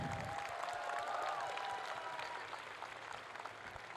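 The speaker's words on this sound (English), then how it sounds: "Big applause for Babybeard!" Audience applause at a YuniCon 2022 convention Q&A with Babybeard, steady crowd clapping that fades somewhat toward the end, with a faint tonal sound running through the first half.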